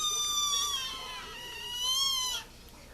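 Foster kittens kept indoors in a bathroom give two drawn-out, high meows close by, the second ending abruptly, with no talking.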